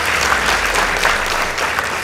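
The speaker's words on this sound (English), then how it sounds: "Please give them a round of applause." A studio audience applauds a school debate team, Moi Girls Eldoret, after their score is announced, giving dense, loud, sustained clapping that fills the room with no talking over it.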